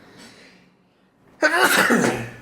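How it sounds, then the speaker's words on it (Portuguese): A single sharp sneeze bursts out after a quiet moment of faint breathing, loud and close, sweeping across a wide noisy band before trailing off. "Peraí que eu vou espirrar."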